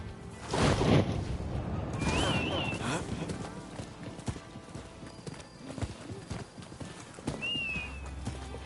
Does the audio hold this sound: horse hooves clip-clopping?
yes